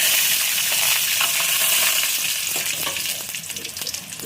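Peanuts roasting with salt in a pan for poha: a loud, dense frying sizzle close by that continues throughout and eases slightly toward the end, with no talking.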